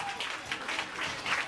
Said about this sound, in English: Come on, folks, please put your hands together.